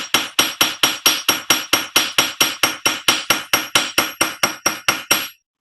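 Steady, evenly spaced hammer blows ring on sheet metal during fold forming of a leaf shape, about twenty sharp clanging strikes in a regular rhythm, close and loud, then they stop.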